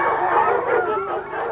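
A hunting pack of dogs barking and yelping together, close and loud, overlapping howls and yips in a continuous chorus.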